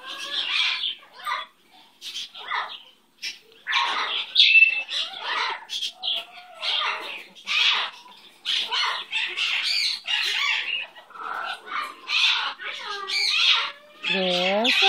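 A pet bird squawks and chirps loudly and repeatedly at close range, in a busy run of harsh calls with short pauses and a few rising whistled notes near the end.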